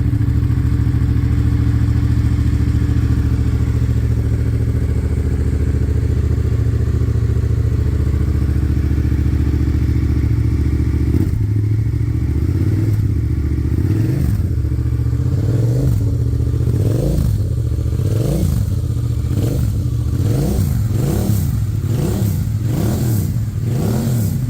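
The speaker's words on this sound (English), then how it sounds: "it sounds way different with any other MT07 exhaust." A loud aftermarket exhaust on a 2022 Yamaha MT-07 motorcycle with over 20,000 km idles steadily, then is revved repeatedly in quick, rising bursts that grow more frequent toward the end.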